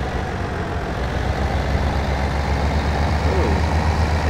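A Toyota Hilux truck engine idles steadily at about 1,000 RPM in Farming Simulator 2017, a continuous low, even rumble with no talk over it.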